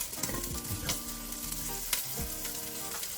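Steak sears in a hot pan, giving a steady, close, crackling sizzle with scattered small pops throughout and no talking.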